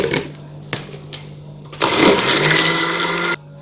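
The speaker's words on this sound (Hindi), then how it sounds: "इसे अच्छे से ब्लेंड करेंगे।" An electric blender whirs as khoya is blended for a dates milkshake: a steady motor hum at first, then a louder, harsher churning burst for about a second and a half before it drops back.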